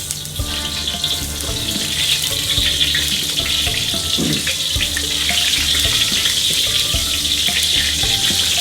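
Ginger frying in cooking oil for seafood pakbet, a loud, constant sizzle and crackle up close with occasional clinks of a utensil stirring the pan.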